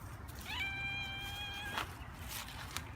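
A cat meows once in a drawn-out, high, wavering cry, set among animal play in a playpen with a puppy nearby; faint rustles and thumps follow.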